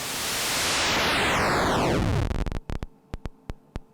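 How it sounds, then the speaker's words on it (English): A Tau Hydrae mono synthesizer's white noise hisses loudly, then sweeps downward in pitch like a filter closing, ending in a series of sharp ticking clicks. "it sounds like a pretty standard white noise source"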